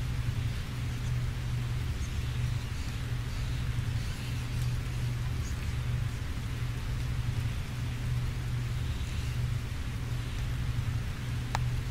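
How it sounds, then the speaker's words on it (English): Steady rain falling in the video game Calvino Noir, a dense, constant hiss with a low rumbling undertone, even and unbroken for the whole stretch, without voices. "The rain continues to hurtle from the heavens."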